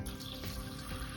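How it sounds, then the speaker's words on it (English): Water being added to Dutch pour acrylic paint, a steady close trickle and splash of pouring liquid running for about a second. "now I'm gonna go back and add a little bit of water"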